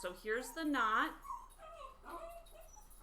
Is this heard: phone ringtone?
no